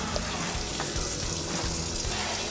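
Warm water runs from a tap in a steady, close splashing stream while hands are washed under it. The irregular patter shifts as the hands move through the flow.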